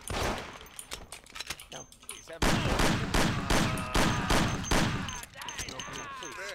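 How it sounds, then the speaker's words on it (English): Shotgun gunfire during a police chase in the Mafia video game, a rapid series of sharp loud blasts in close succession, with a voice talking faintly in the background. "They're sniping with the shotguns!"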